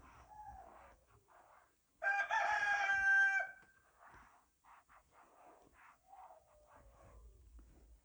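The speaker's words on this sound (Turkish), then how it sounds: "Horoz" A single rooster crows loudly for about a second and a half, with quieter bird calls and faint ambient noise before and after.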